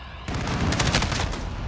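Dense rapid gunfire from a video game at Alcatraz rattles continuously in loud overlapping bursts, close and sustained with no pause.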